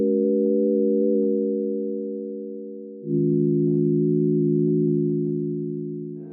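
A smooth FL Studio 3x Osc synth pad drones steadily, its pitch fluttering quickly from a fast LFO, holding one note, then stepping down to a lower note that slowly fades, with no one talking.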